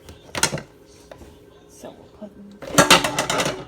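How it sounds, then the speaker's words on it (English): Dishes and pans clatter in a home kitchen while a crockpot lasagna is assembled, a loud burst of clinking and clanging near the end after a short spoken remark, with brief knocks earlier. "Sorry for that loud noise. That was the dishes."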